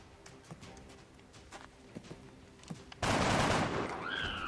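Scattered faint gunshots crackle in XCOM Enemy Unknown before a sudden loud, close burst of fire with a sustained blast and ringing tail.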